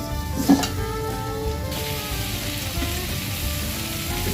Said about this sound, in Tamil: சேர்த்து தக்காளியும் சுருளை வதக்கிக்குவோம். இன்னும் கொஞ்சம் நேரம் வதக்கிக்குவோம்.